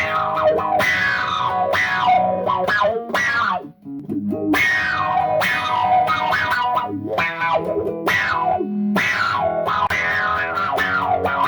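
An electric guitar played through an Electro-Harmonix Micro Q-Tron auto-wah with drive turned up gives loud, distorted funky chords, each strum swept by a bright quacking filter, in a steady rhythmic pattern with a brief pause midway.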